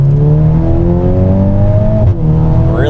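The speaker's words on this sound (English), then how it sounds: "the car gets louder, the personality gets a lot louder, you have some pops and bangs" A loud, nearby Mk8 Golf R with a Milltek turboback exhaust revs and climbs steadily in pitch, briefly drops off, then roars back up with a rising whine.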